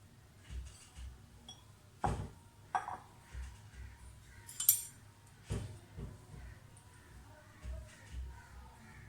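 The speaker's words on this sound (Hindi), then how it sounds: "स्पून के साथ बराबर करते जाएं, स्पून के साथ ज़्यादा अच्छा लगता है" A spoon spreading potato pinwheel batter in a dish makes faint, sparse taps and scrapes against the dish with quiet pauses between them.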